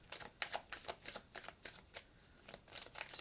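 Tarot cards are shuffled close by in a quiet room. The riffling comes in quick, soft bursts of rapid papery flicks, repeating rhythmically with no one speaking.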